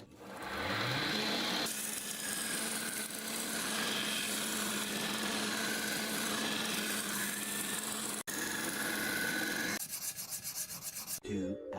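Steady abrasive rubbing of a real steel blade being sharpened, a continuous close scraping grind with brief breaks near the end.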